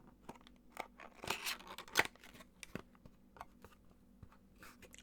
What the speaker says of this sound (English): So we have my trusty little pocket knife.